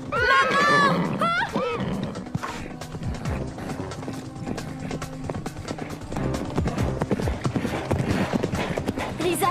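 Cartoon horse galloping with fast, continuous hoof clip-clops, opening with a loud whinnying neigh, while a voice calls out over the running hooves.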